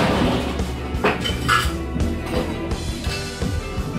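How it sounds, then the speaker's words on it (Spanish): Ice goes into a cocktail shaker while a Bahama Mama is made: a steady stream of hard clinks, rattles and clatter, close and busy, with no voice over it. "vamos a empezar por agregar hielo en nuestra coctelera"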